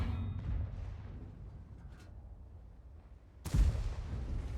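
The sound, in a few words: tank gun firing in a video game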